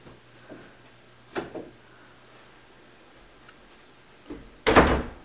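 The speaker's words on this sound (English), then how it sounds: "close the bathroom door." A bathroom door closes in a home, with a few faint knocks and shuffles followed by a loud, close thud of the door shutting at the end.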